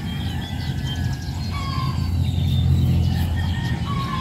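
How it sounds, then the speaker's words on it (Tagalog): Hungry ducks squawk and quack noisily over a low rumbling background, several overlapping cries rising and falling close by. "Mga pato. Gutom na sila, maingay sila."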